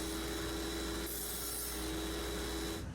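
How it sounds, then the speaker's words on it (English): A tenon cut in cherry wood for a portable tabletop bar, heard as a steady, close machine-cutting drone with a constant tonal hum and a dense, even rasp that holds throughout without pause. "I follow up by cutting a tenon in the front and back pieces"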